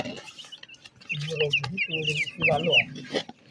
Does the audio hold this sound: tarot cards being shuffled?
no